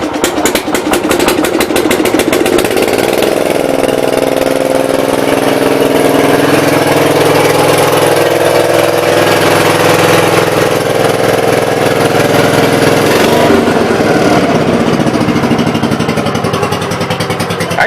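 A Gravely walk-behind tractor engine runs loud and close with a steady, throbbing idle that shifts pitch slightly as the throttle changes.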